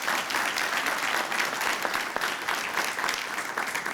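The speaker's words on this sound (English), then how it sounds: "Let's give your senators and your representatives another round of applause for doing this." Steady, moderately distant clapping from an audience honoring senators and representatives at the LCTCS Center for Excellence in Auto Technology, a continuous even patter lasting a few seconds.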